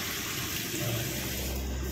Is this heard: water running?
yes